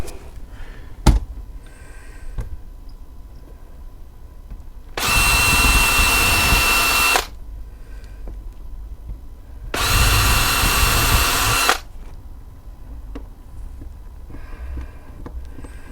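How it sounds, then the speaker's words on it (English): Power drill driving screws into aluminium on a model railway layout, two sustained loud whirring bursts of about two seconds each, separated by quiet handling knocks. "fix that in place with the drill and some screws."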